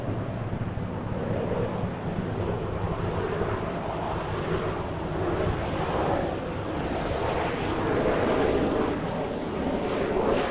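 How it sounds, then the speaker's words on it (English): A Jazz Dash 8 Q400 turboprop airliner in old livery comes in to land at Vancouver airport, a steady broad engine roar heard outdoors with wind buffeting the microphone throughout. "Q400 coming in. A Jazz Dash 8 with the old livery."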